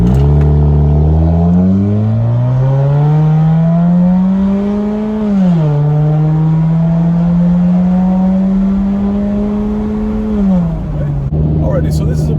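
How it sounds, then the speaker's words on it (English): A car with its muffler and resonator deleted accelerates from 0 to 60 with the windows down, its loud raspy exhaust climbing in pitch through gears with a brief drop at one shift and a clear close drone. "And now a 0 to 60 with the windows completely down."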